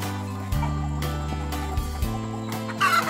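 Farmyard chickens in La Union, Philippines, clucking and squawking close by, with a rooster's call among them, in repeated short bursts over a steady low background hum.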